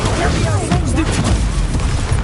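Stupefy spell cast in Hogwarts Legacy during combat: a loud, dense burst of magical blast effects with booming, crackling impacts that carry on without a break, and a voice can be heard under the noise.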